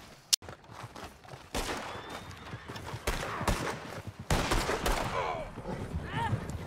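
Gunfire crackles through the Red Dead Online video game, a sharp opening shot followed by bursts of rapid shots and a fusillade, loud and close, with players' excited voices and hoofbeats mixed in.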